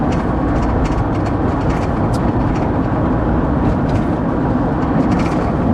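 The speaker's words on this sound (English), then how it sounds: "Oh, there's a train that's moving." A moving train heard from inside a parked car in Arkansas City, Kansas: a steady, loud low rumble of rail traffic that holds constant, with faint higher rattles on top.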